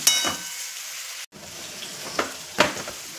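Green chillies sizzle and fry in an oil-filled pan, a steady hiss with a brief cut and a few louder crackling bursts as they are stirred, with no talking.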